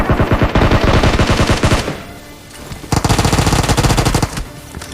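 Rapid automatic gunfire from guns in the BGMI battle royale game, loud bursts of repeated shots with a short pause in the middle before firing resumes.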